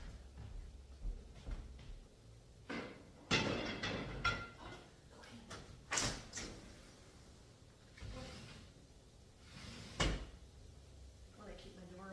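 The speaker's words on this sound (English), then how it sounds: "And I like to open up my door" A kitchen door opens with a hollow clunk and rattle, followed by later knocks and bumps at moderate loudness, with quiet background movement around it.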